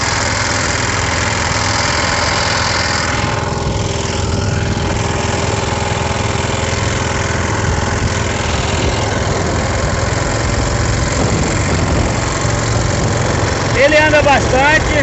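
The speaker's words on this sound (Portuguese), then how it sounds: "É um motor muito econômico, anda bastante." A small Toyama 3.3 HP diesel engine runs steadily close by, a continuous loud, knocking idle-like drone with vibration, while someone speaks over it.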